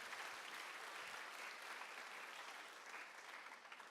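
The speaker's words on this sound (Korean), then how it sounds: "하나님께 영광의 박수 올려드리겠습니다." An audience at a Christian youth event claps together in sustained, even applause, a dense patter of many hands held steadily throughout the few seconds without talking.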